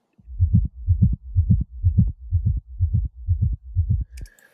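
A deep, boomy kick drum thumps nine times at a steady tempo, its low end heavy and unfiltered, followed by a brief bright tail.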